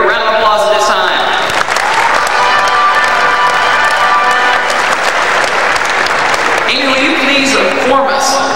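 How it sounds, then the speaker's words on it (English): Loud, dense applause from an FFA audience at a state leadership conference awards session, sustained for several seconds with a crowd cheering faintly throughout. "give Mr. Grigg a round of applause at this time"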